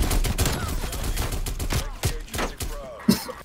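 Rapid shotgun and gunfire bursts in a Call of Duty Cold War 2v2 gunfight crack in quick irregular volleys, loud and close, with game noise mixed in.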